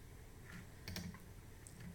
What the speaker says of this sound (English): I'm going to nudge it with my arrow tools on my keyboard.